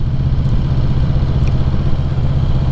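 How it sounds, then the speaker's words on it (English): A Yamaha VMAX 1700 motorcycle engine lugs at low revs while climbing a slight uphill, giving a steady, close, deep rumbling throb with no talking. "a little bit of lug on the engine"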